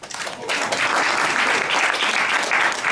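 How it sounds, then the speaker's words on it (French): Audience applause breaks out at a Megamind 3D press conference as the director is welcomed, the clapping swelling quickly and holding steady and close. "Et je vous demande d'accueillir et d'applaudir tout d'abord le réalisateur, Mr. Tom McGrath."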